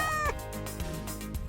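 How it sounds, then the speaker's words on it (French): A kitten meows in the Avatar World video game, a short, high, rising and falling mew heard over steady background game music. "C'est quoi ça? Un minou? T'es perdu?"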